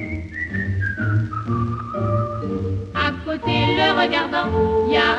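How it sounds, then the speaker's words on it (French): A person whistles a tune alone, a clear melodic line of sliding and held notes over a soft accompaniment of low instrumental tones. "il sifflote une chanson."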